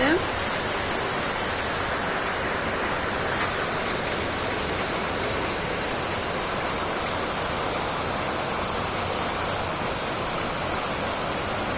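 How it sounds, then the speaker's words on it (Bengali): Rain drumming steadily on a tin roof, a dense, loud, unbroken hiss of patter that holds evenly throughout with no pauses. "খুব সুন্দর বৃষ্টি হইতেছে আর টিনের চালের মধ্যে জমজম করে পড়তেছে"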